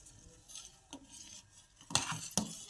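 A spoon stirs a milk mixture with jaggery in a metal pot for kharvas, making soft scrapes and a few sharper clinks against the pan, close and quiet, with no voices.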